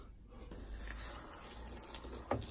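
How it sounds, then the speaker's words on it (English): Water poured from a container onto perlite in an egg incubation box, a steady close pouring and gushing sound with a brief splash near the end. "now we're going to add the water to the perlite."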